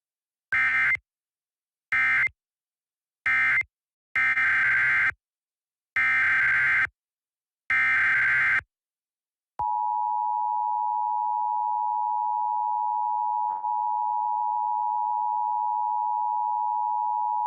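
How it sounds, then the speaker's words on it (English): Emergency Alert System test from West Central Michigan: a series of harsh, buzzy data bursts, then a long steady attention tone sounds loudly and alone, with one brief click partway through. "This is a test of the West Central Michigan Emergency Alert System"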